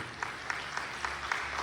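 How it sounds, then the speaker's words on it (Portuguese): Church congregation at a worship service clapping, a steady patter of fairly faint hands with a few sharper claps standing out at regular intervals. "Aplauda Ele que Ele cuida de você."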